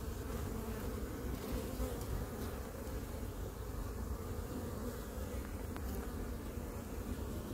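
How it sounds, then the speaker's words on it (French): A steady, close buzzing of honey bees at an open hive during a colony inspection hums continuously, with the drone of insects flying around nearby and no talking. "il y a déjà une abeille qui me tourne autour"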